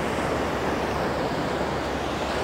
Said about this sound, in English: the water mist from the ocean waves crashing